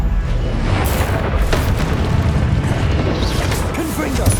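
A fiery Incendio spell blast from Hogwarts Legacy bursts out in a loud, dense roar of crackling impacts and booms. The noisy rumble stays constant from start to finish, with other spell effects mixed in.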